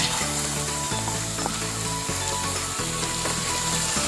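Bamboo shoots fry in a pan in a Philippine countryside home kitchen, a loud continuous sizzle close up with occasional stirring scrapes.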